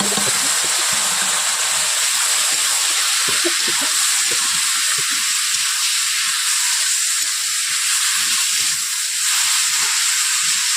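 Small chuno fish and vegetables land in a hot pan, producing a continuous broad hiss with soft crackles and faint stirring thumps, close and steady.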